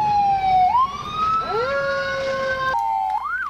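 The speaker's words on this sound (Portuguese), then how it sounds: "Liga a sirene, cara." An emergency vehicle siren in the video game Emergency 4 wails loudly and up close, its tone sliding and rising in sweeping electronic cycles, then cutting out before a short new rise.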